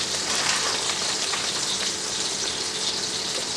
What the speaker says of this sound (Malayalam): പാത്രം നല്ല ചൂടുണ്ടായിരുന്നു. അത് കാരണമാണ് ഇങ്ങനെ ഫ്ലട്ടറിങ് വന്നത്.